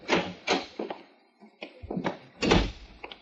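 Within a radio drama, a door opens with a series of knocks, wooden thunks and a heavier clunk spread over a few seconds, close and fairly crisp.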